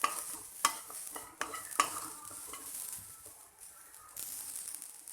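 Chicken semi gravy with little oil is stirred and sautéed in a pan, giving a soft steady sizzle with a few louder scrapes and clinks of the spoon early on, close and fairly quiet.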